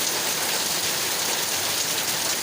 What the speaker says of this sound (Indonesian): ini hujan deras banget mas bro